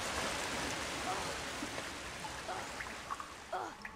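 A waterfall outside a cave in Harry Potter and the Sorcerer's Stone makes a steady, hissing rush of falling water, moderately faint and constant throughout, with a voice speaking over it.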